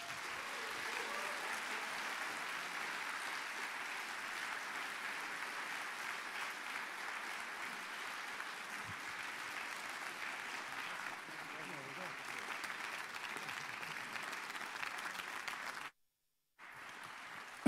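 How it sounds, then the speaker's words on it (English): Film festival audience in Rotterdam applauding director Armando Iannucci, a dense, steady wash of clapping from a large crowd lasting many seconds, fairly faint and distant, cutting out briefly near the end before resuming. "please give a very warm round of applause for the director of The Death of Stalin"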